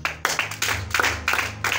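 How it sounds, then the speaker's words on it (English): A congregation claps in a rough rhythm at a sermon, a run of loud, close hand claps coming in quick uneven bursts about every quarter second. "Clap your hands."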